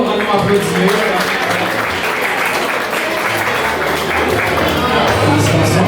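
Audience applause at a slam poetry competition, a dense, steady wash of clapping from a crowd that fills the whole stretch, with a few low thumps and crowd voices mixed in.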